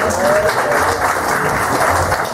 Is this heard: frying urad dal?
no